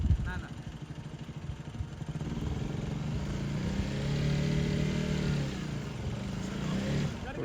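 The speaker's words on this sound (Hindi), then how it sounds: "बाइक स्लिप कर रही है।" A KTM Duke 250 motorcycle engine labours and revs up a damaged muddy hill road, its steady drone swelling louder midway as the bike slips on slick clay, with a voice talking over it.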